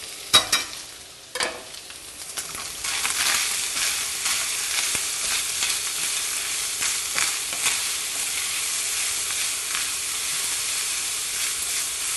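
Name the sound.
onions and garlic sizzling in a pan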